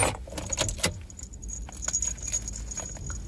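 Car keys jangle in a few quick bright clusters near the start, then lighter scattered clinks continue close by at low volume.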